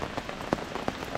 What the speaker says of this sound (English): hopefully this rain passes